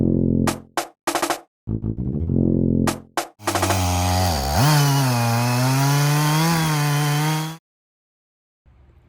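A Norwood PM14 sawmill's gas engine starts with a few short bursts, then roars steadily as the blade cuts through a white pine log, dipping under load before cutting off into silence.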